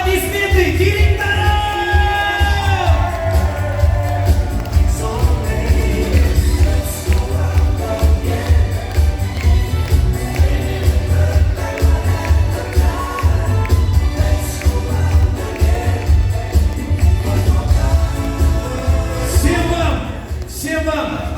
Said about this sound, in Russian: Аплодисменты директорам!